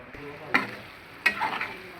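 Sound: masala paste added to prawn curry sizzling in pan

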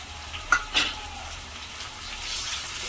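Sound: tomatoes frying with onions in pan

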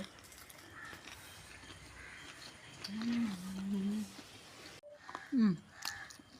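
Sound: crow cawing

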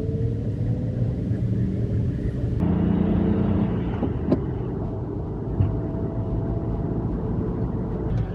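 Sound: micro camper car driving on snowy road with tire chains

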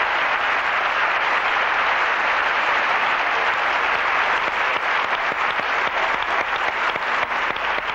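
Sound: applause from the audience at Teatro Boulevard

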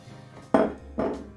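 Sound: bacon bits thrown into bowl of pasta

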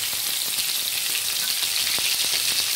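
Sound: stuffed brinjal sautéing in hot oil

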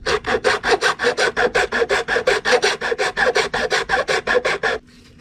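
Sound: metal file filing acrylic and aluminium

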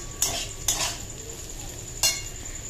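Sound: potatoes frying in pan

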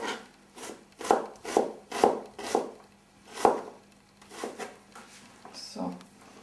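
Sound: finely dicing onions and garlic with a knife

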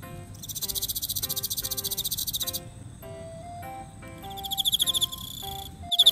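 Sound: Emma field cricket chirping by vibrating its wings

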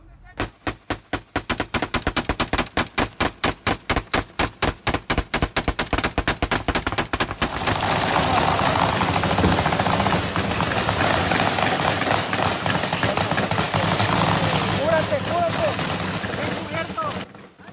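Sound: gunfire during a shootout between armed groups

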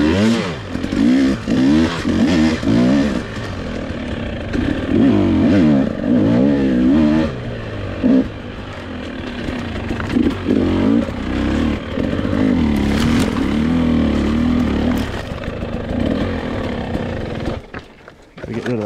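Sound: Husqvarna TX300i motorcycle riding single track

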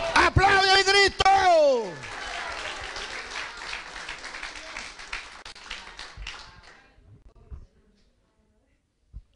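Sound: congregation applauding

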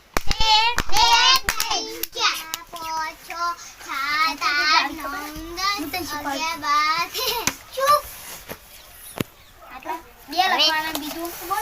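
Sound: schoolchildren clapping three times

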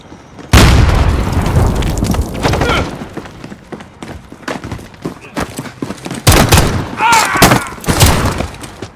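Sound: cruise missile explosion in Call of Duty video game

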